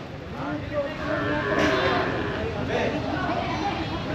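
Carabao water buffalo and cattle at a bustling livestock market near CDO in El Salvador, Mindanao: a long, loud low moo rises over busy market chatter, with people talking nearby throughout.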